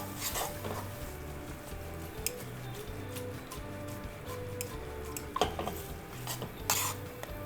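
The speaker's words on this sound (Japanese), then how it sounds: "で最後にパスタを加えて、あとはもうこのソースをですねパスタに和えるだけです" Pasta is tossed through a scorched aglio olio peperoncino sauce in a pan, with soft scraping and stirring and sporadic sharp metallic clinks of utensil against pan, fairly quiet and close.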